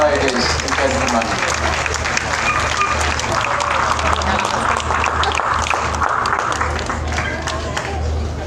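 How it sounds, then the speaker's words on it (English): Sustained applause from a large crowd at a dog show's Best in Show judging, dense and even throughout, with a low rumble and some voices mixed in. "a round of applause to the ladies and gentlemen"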